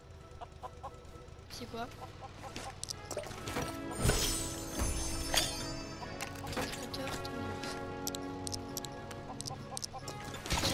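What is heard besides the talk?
chicken clucking in LEGO Worlds video game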